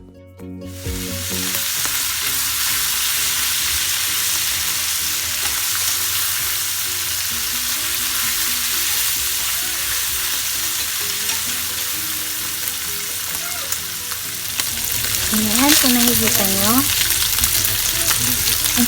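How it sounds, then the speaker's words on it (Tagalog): Steady loud sizzling of pork frying in a pan, a continuous crackling hiss, with brief scraping of stirring and a few spoken words. "Then, prito lang natin ito mabuti."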